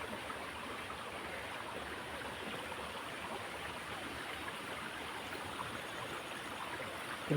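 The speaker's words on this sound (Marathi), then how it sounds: "आणि अशी खाली नदी गेली आपल्याकडे." A river flowing below a deep pool among trees during the Konkan monsoon, heard as a constant, even rush of water from a moderate distance with no voices.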